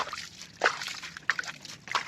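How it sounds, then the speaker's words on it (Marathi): Muddy water scooped out of a small hand-dug spring in open countryside, heard as three soft wet sloshes and splashes spaced about two-thirds of a second apart, close and quiet. "गडूळ पाणी बाहेर काढून घ्यायचं"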